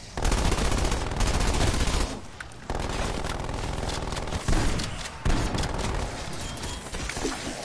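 Rapid automatic fire from a deployed sentry turret in a shooter video game's Wonder Weapon mode, loud and sustained with near-constant bursts, brief pauses around the second and fifth seconds.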